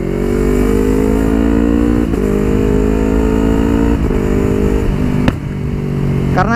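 A 2019 Yamaha R25 sport motorcycle engine runs close and loud at a high, steady pitch on a test ride, with slight shifts in tone as the revs change.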